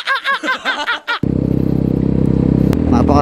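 A Rusi Sigma Adventure 250 motorcycle overtaking on a ride: a voice talks briefly, then a loud, steady, close engine drone takes over and holds with a slight rising pitch.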